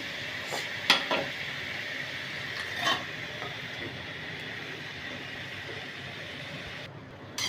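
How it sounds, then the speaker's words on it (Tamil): Ginger garlic paste frying in a pan for an oyster mushroom gravy, giving a steady hiss of sizzling with scattered clinks and scrapes as it is stirred, close by and with no talking. "நல்லா இஞ்சி பூண்டு பேஸ்ட் போட்டு நல்லா நம்ம வணக்கி விட்டுக்கலாம்"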